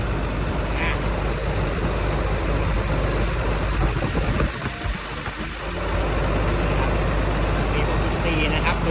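Caterpillar 320DL-E excavator with a long 16-metre boom, its six-cylinder turbo diesel engine running smoothly at a steady idle close by, with a brief dip midway.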